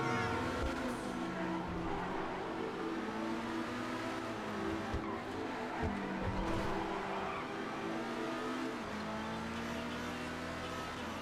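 Engine noise from a car driven in GTA V Online runs continuously, with revving, tire squeals and skidding spread through the drive, loud and close, with no talk over it.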